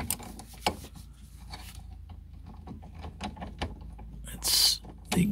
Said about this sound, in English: it's the transmission drain that I'm opening here